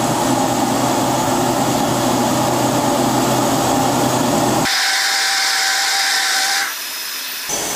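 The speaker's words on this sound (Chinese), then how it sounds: "那么我们现在来开机看看我们的机器的一个运行状态" A RAETTS air bearing blower runs steadily after startup with a loud, continuous whirring drone; partway through, its broad hum drops away and leaves a thinner high-pitched whine.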